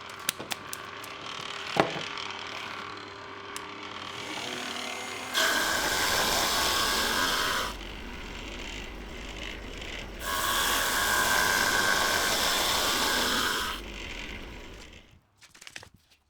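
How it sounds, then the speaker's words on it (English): A bandsaw cuts the hub of a wooden ship's wheel from scrap wood in two long bursts of steady, loud rasping, separated by quieter machine hum, with a few clicks before the first cut. "I'll cut it out on the bandsaw"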